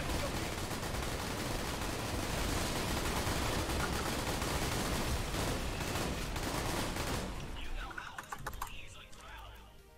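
Sustained rapid gunfire in Borderlands 2 as a surveyor drone is shot down, a dense loud stream of shots that drops off into a few scattered bursts near the end.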